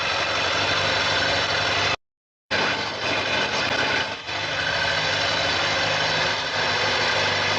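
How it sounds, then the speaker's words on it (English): A motorcycle engine running up to warm it to temperature, a loud, steady, close drone that cuts out for a split second near the start, then carries on evenly with a slight dip midway. "I'm going to rev it a little bit so that it reaches temperature"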